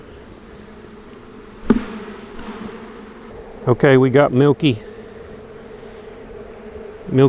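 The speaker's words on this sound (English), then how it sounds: "that is a big old blob of bees" A thick, steady drone of a large cluster of honey bees buzzes up close during a spring hive inspection, and someone speaks briefly over it.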